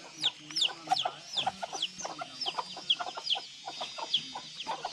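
Chickens clucking in a backyard garden, a steady run of short clucks and squawks from several birds close by, with no talk over them.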